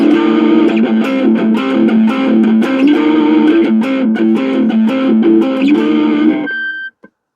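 An electric guitar run through a different amp distortion setting chugs out loud, rhythmic, gritty chords for several seconds before stopping with a short ringing tail.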